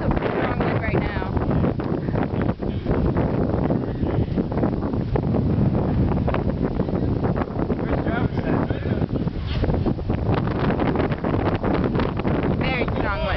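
Strong gusting wind ahead of Hurricane Ike roars continuously and loudly across the microphone, a heavy buffeting rumble that never lets up, with people talking underneath.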